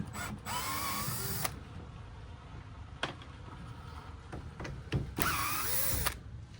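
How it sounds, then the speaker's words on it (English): A power driver fitted with a Phillips bit backs screws out of a standard push-out window frame, whirring in two loud close bursts at the start and near the end, with brief clicks and handling noises in between. "Switch over to Phillips bit. Take out these 2 screws."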